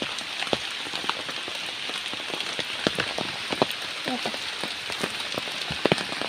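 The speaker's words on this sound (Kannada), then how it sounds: "ಮಳೆ ಸ್ಟಾರ್ಟ್ ಆಯಿತು" Steady rain falls over a garden of small plants and chilli seedlings in Kerala, a dense even patter with scattered louder drops landing nearby, no voices over it.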